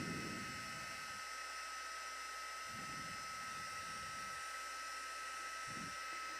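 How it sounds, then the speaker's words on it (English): A heat gun blows steadily while melting embossing powder on a papercraft project, a continuous hiss and roar that rises in low bursts as it is swirled over the surface, close and fairly loud throughout. "like to swirl my heat gun around. And eventually it'll start to catch."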